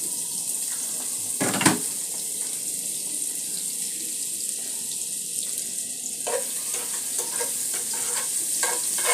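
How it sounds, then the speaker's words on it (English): Garlic sizzling and frying in hot oil for a spaghetti sauce, a steady loud crackling hiss throughout with a sharp stirring clatter near the start and light scraping later. "This is garlic. I'll add here inside my oil."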